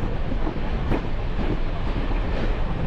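The Kamrup Express train at NJP (New Jalpaiguri) station gives off a loud, continuous, close rumble with heavy wind buffeting the microphone and no voices.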